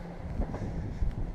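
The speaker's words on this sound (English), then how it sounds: "There it goes. Not quite as long as the train in Flying Brian's video, but there you go." A train rolls past at a distance, a faint low rumble with soft clattering wheel thumps, heard alone without talk.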